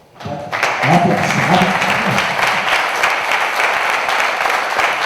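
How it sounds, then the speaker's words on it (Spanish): Audience applause at a mystery talk event in Zamora, a dense wash of clapping that rises quickly and holds steady throughout, with some voices mixed in near the start. "Primero un aplauso, ¿no?"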